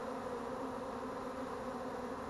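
A honeybee swarm at a capture hums steadily and loudly up close, workers fanning hard to spread their homing scent, a dense continuous drone with no voices.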